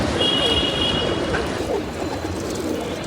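Pigeons cooing softly amid a dense, noisy wash of rustling and fluttering as a flock lands and takes off, continuing throughout.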